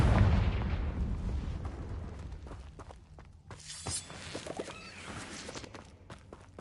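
The Confringo explosion spell is cast in a video game: a heavy burst of rumbling blast at the start fades into scattered thuds, crackles and small impacts.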